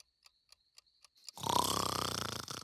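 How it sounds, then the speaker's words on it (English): A cartoon snore, drawn-out and loud with a rough rhythmic rasp, sounding alone for over a second after a run of faint, evenly spaced clock-like ticks. "stop snoring!"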